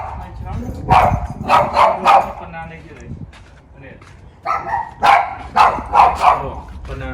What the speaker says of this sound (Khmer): ដើរនៅឆ្កែព្រុស